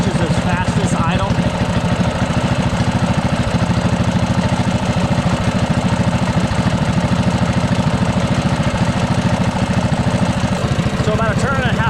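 Small mini bike engine idling steadily at its highest idle while the carburetor is adjusted, with a close, loud, fast rhythmic chugging throughout and a voice talking over it.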